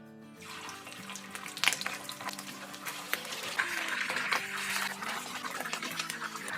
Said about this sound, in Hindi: ऑयल को मैंने अच्छी तरह गर्म कर लिया है और अब इसमें डालेंगे हम अपनी मछली